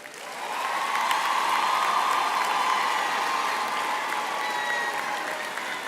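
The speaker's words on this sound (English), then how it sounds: "I just request you graduates to give a round of applause to all the families, the parents, the friends that have supported you" Graduation ceremony audience breaks into applause, swelling within the first second into a sustained, even roar of many hands clapping that holds steady to the end.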